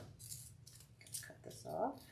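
Scissors snip off a piece while a summer lemon wreath is assembled. The sound is a few faint, brief cuts and rustles, close and quiet.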